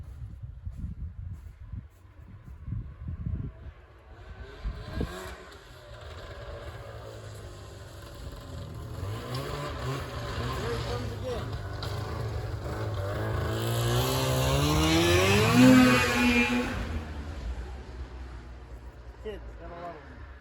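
An old engine on a 1953 Caterpillar 112 grader starts up, first sputtering and chugging, then catching into a rising mechanical roar that swells to a peak before easing back to a rough idle.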